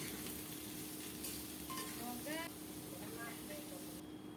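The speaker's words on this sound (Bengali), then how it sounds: "সরিষার তেলে পেঁয়াজ পুরন দিয়ে মিষ্টি কুমড়া ভাজা করব" Pumpkin frying in mustard oil with onion and five-spice, giving a steady close sizzle and hiss throughout while a voice speaks over it.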